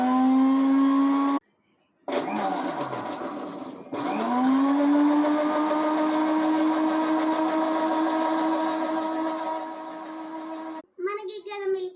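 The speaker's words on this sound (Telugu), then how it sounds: "అన్నీ వేసేసుకొని మనం క్రాష్ చేసుకొని మిక్సీ జార్లో మనం ఆన్ చేసుకుందాం" Electric mixer grinder blending cut watermelon in a kitchen jar, a loud steady whirring motor that starts, pauses briefly, restarts and runs continuously for several seconds before cutting off, with a voice briefly at the end.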